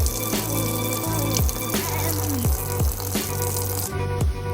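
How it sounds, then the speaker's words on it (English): Running tap water pours steadily into a kitchen sink while peeled, deveined shrimp are rinsed, a loud continuous splashing stream with occasional knocks and clinks, no voices. "We're going to rinse our shrimp. Rinse them very well."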